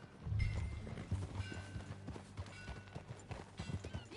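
Horse hooves clip-clop at a steady walking pace in the Red Dead Redemption 2 video game, fairly close and clear, with faint rustle and no talk over them.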